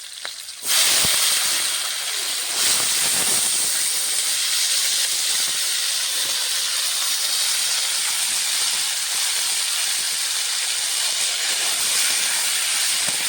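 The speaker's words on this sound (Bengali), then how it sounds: "দুটো কাঁচা লঙ্কা তেল, পুঁই শাকের ফলটা ভালো করে ভেজে নিচ্ছি" Malabar spinach fruit frying in oil with two green chillies and a black cumin seed tempering gives a loud, constant hiss that begins abruptly and holds steady throughout, with no talking.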